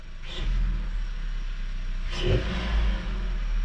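A cold car engine with a DSG DQ200 gearbox rumbles low and close, with two short revs of the throttle, one early and one near the middle, over a steady idle.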